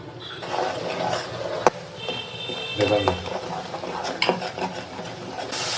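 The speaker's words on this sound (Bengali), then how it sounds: "এখন আমি মশলাগুলো নেড়ে চেড়ে নিচ্ছি।" Whole spices with garlic and ginger paste, coriander, chilli and turmeric powder are stirred and fried in a pan for a goat meat curry. There are intermittent scraping stirs over a soft sizzle, with a few sharper clanks of the utensil.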